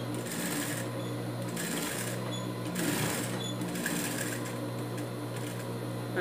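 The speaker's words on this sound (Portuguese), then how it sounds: "vou costurar em toda a volta" A sewing machine runs steadily, stitching all the way around a tricoline fabric lining for a dog's shoe, with a fast even needle rhythm and brief pauses between runs.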